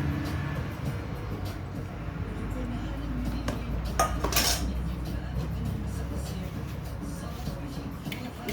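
Kaak brioche dough ingredients are mixed in a bowl, with repeated clinks and scrapes of a utensil against the bowl and a quiet voice in the background.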